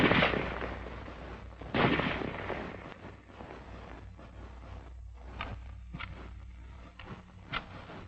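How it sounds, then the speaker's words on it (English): An M1 Garand rifle firing, heavy booming reports with a long tail, the first two loud and close, followed by quieter sharp cracks spaced irregularly, with no voices. "The rifle will fire each time the trigger is pressed until the magazine is empty."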